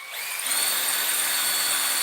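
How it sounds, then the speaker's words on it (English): A power drill whines steadily and loudly as it bores into knife steel during heat-treating work, holding one continuous tone throughout, with no voices. "Let's try drilling this again."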